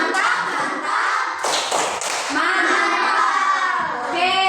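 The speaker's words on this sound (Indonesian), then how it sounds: "Oke, tepuk mantap dulu. Tepuk mantap." A class of children clapping a rhythmic cheer together, loud patterned claps and slaps mixed with their shouting voices in a classroom.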